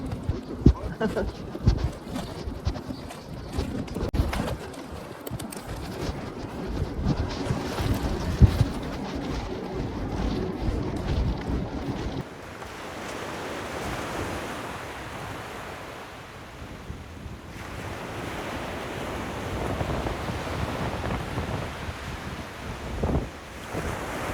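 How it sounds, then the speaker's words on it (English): Strong gusty wind roars across the microphone at a San Francisco beach, with the wash of surf underneath and a continuous, loud blustery rush throughout. "the wind on this day was super, super loud, so I had to turn it down."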